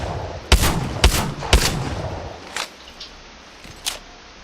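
A pump shotgun fires in Apex Legends, three sharp, heavy blasts spaced about half a second apart, then a few fainter reports trailing off.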